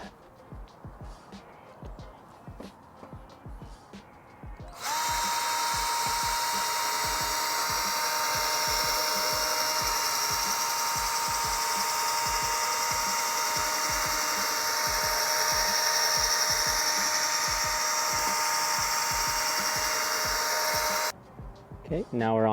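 An electric power sander works an 800-grit sandpaper pad across a Honda Element headlight, droning steadily and loudly for about sixteen seconds, with a faint voice and handling noise before it starts and after it stops.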